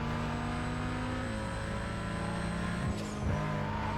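Engine of a yellow Porsche Cayman S in Need for Speed: Most Wanted (2005, PS2): a steady, close engine drone holding pitch, dipping briefly as it shifts, with a faint high whine over it.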